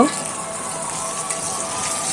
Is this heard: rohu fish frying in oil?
yes